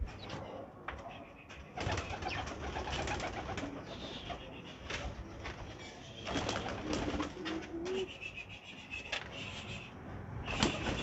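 Pigeons being released from their coop coo repeatedly close by, with wings flapping and fluttering in bursts as the birds move about.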